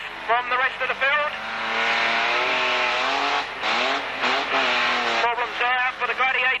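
Van racing at a Braintree Auto Club meeting in 1991, with engines revving and sweeping past, tires squealing at moments, as a commentator talks over the roar for most of the stretch.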